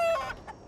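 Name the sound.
chickens clucking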